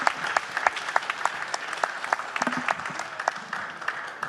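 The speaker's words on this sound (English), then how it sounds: "A round of applause for the team." Audience applause for a team at the Oxford Africa Conference, steady clapping from a moderate crowd that holds through the whole stretch with small sharp peaks and no voices above it.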